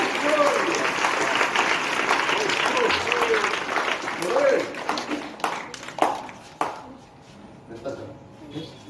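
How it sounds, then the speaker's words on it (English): Audience clapping at a school morning assembly and certificate award ceremony, dense and steady applause that thins into scattered, separate claps toward the end, with a faint voice in the background. "Give a big clap for Hardik Mishra and Arpit Tiwari."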